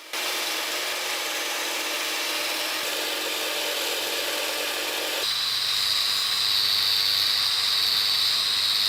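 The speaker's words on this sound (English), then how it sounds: "followed by bevel refinement using sanding tools" A continuous abrasive whir of a power sanding tool grinding against a rusted balisong knife blade, refining the bevel, steady and loud, shifting to a higher, harsher pitch midway.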